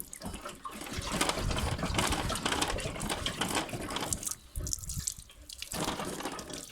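Dirty water with rust and grime draining from a motor's fuel tank, a steady splashing trickle that runs continuously close by, briefly easing then resuming toward the end, with no voices.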